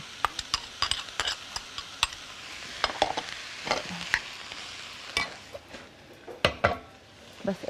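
Colored bell peppers sautéing in a pan with a steady sizzle, broken by repeated sharp scrapes and clinks of a utensil stirring against the metal, close and moderately loud with no talking.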